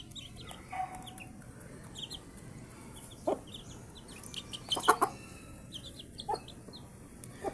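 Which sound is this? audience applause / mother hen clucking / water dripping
mother hen clucking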